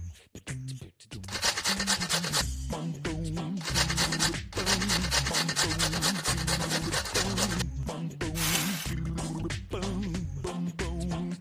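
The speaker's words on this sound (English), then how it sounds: "We need to grate this." Grating an ingredient in the Masha and the Bear pizzeria video game produces continuous rhythmic rasping scrapes, loud and close, layered over bright cartoon game music.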